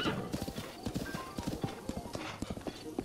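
Horse hooves galloping in Zelda: Breath of the Wild, a steady rapid clip-clop near and loud, with a brief whinny and game sounds mixed in.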